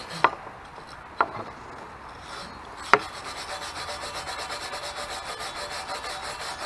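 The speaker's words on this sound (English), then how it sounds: "So this wire brush, again, these bristles are pretty long" A long-bristled wire brush scrubs surface rust off a metal barbell. A few sharp knocks come first, then steady rhythmic rasping strokes at close range.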